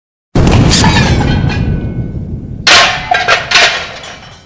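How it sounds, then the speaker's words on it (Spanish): A loud grenade explosion bursts suddenly, followed by a second heavy blast and rumbling, crackling debris that fades away. "Otra gran explosión se produjo"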